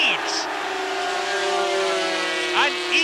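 Racing motorcycle engines from the 1979 British motorcycle Grand Prix scream loudly at high revs as bikes pass, pitch sweeping up and down, with commentary over the top.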